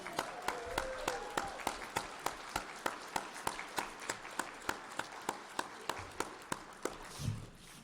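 At a Rotary Club meeting, a quiet cheering section in the back claps in an even, rhythmic beat, with sharp individual claps evenly spaced throughout and little else heard.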